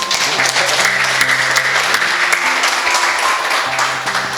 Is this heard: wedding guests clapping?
yes